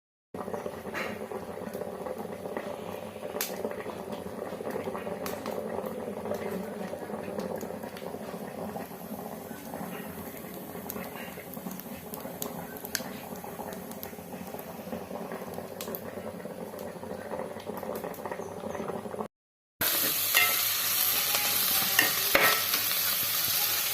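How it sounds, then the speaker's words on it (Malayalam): Beef liver sautéing with crushed garlic, ginger and green chilli in a pan for Kerala-style ularthu, a steady close sizzle and bubbling fry with faint stirring, briefly cut off near the end before resuming louder. "വെളുത്തുള്ളിയും ഇഞ്ചിയും ചതച്ച് വെച്ച പച്ചമുളകും കൂടെ ഇട്ട് കൊടുക്കാം. നല്ല മിക്സായി കുറച്ച് നേരം"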